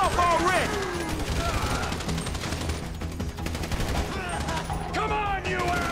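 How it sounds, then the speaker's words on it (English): Sustained gunfire in the video game Grand Theft Auto V during a heist shootout, dense rapid automatic bursts and shots filling the clip, with characters shouting over the fighting. "So I guess we're shooting our way out of here!"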